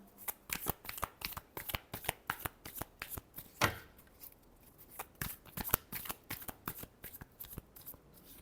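Tarot cards are shuffled by hand at close range, producing a steady run of crisp riffling flicks with one louder rustle midway, and no voice over them.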